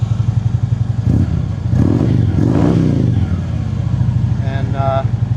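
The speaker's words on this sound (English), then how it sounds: "Bike sounds good, nice and throaty." Motorcycle engine idling with a throaty, pulsing rhythm and brief revs, close and loud, with someone talking over it.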